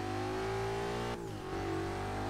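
A Ford Mustang with a wheelie build in Forza 6 revs hard, its engine holding a high, steady roar with a brief dip at a gear change before climbing again, close and loud with no talking.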